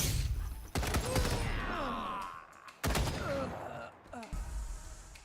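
Turret gunfire in the post-apocalyptic game Wasteland 3: two bursts of sharp, rapid shots around the one- and three-second marks, with whooshing effects and grunts between them.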